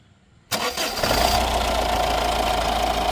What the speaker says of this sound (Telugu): ఇంజిన్ సౌండ్ అయితే గమనించండి, స్టార్ట్ చేసి చూపిస్తాను మీకు.